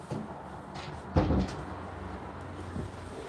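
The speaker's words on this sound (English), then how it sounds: "I forgot to close the door." A door closes at home with a single muffled thump and short rattle, quiet and close, followed by faint shuffling.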